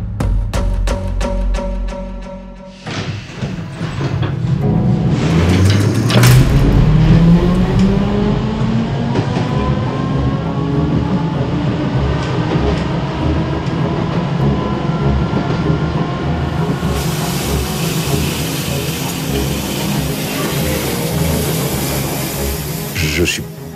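A train pulling away from a station with its brakes nearly gone, staged as a reconstruction of the 1988 Gare de Lyon crash, a loud rising engine whine and heavy rumbling wheel noise that grows harsher, with a voice speaking briefly over it.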